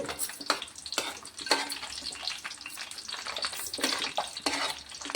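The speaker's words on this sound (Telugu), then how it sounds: "ఆయిల్లో మంచిగా గోల్డెన్ బ్రౌన్ కలర్ వచ్చే వరకు ఆయిల్లో మంచిగా మగ్గనివ్వాలండి." Gooseberries for amla pickle fry in hot oil with a continuous moderate crackle and sizzle. Irregular popping bursts break through the frying.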